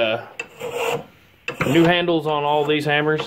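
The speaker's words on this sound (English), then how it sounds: "the old man's smoothing it out with his little block plane" A small block plane smooths a freshly mounted walnut hammer handle, giving rasping, scraping strokes close by, mostly under someone talking.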